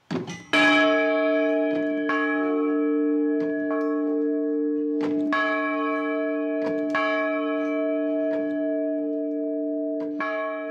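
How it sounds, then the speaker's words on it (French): Several French abbey church bells ring out together at noon, loud and resonant, with repeated strikes layering over a long sustained hum that carries through the whole stretch. "il est midi quand les cloches de l'abbaye tintent à nouveau"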